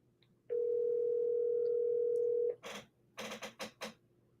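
A steady phone tone sounds alone for about two seconds on an outgoing call, then cuts off into a few short clicks and bursts.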